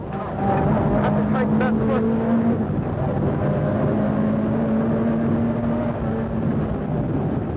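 Opel Manta rally car on a narrow Donegal back road during the 1986 Shell Donegal International Rally, a loud sustained engine drone with shifting pitch, heard under continuous commentary.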